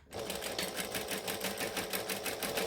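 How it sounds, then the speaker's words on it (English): A sewing machine running steadily while chain stitching a coffin-shaped wallet, with a fast, even mechanical whirring and rapid needle rhythm that starts abruptly and continues without pause, close and with no voices. "then I'm going to chain stitch the next one"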